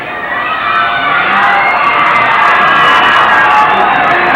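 A 1984 high school football crowd cheers a first down from the home stands, a loud, dense roar of shouts and whoops swelling and holding steady with no clear speech.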